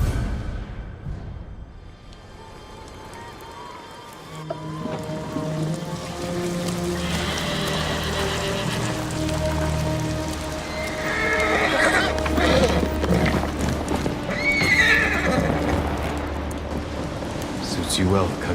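In the video game Ghost of Tsushima, a horse snorts and whinnies while its hooves clip-clop, over steady rain and a low rumble of thunder, with game music swelling in the background.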